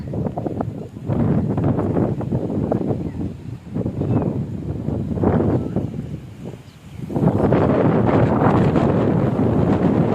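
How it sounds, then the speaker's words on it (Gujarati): Strong wind roars and buffets the microphone in heavy rumbling gusts, easing briefly before surging back louder. "ફૂલ પવન છે."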